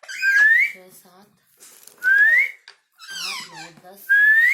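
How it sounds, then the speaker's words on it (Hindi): A pet parrot gives several loud rising whistles close by, spaced across the stretch with short chattering squawks between them. "या तो शानदार सीटी बजाता है।"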